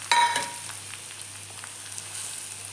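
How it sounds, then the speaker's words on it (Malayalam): Mustard seeds fry in hot oil in a home kitchen. The sizzle is faint and steady, with a brief louder crackle at the start and light scattered pops after it. "അപ്പോൾ ഇത് വറക്കട്ടെ, കടുക് വറക്കാനിട്ടു കേട്ടോ."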